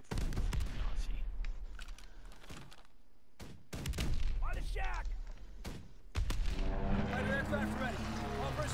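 Strafing gunfire in a video game firefight, bursts of rapid shots and thuds coming in loud dense clusters, with short breaks between them and talk mixed in.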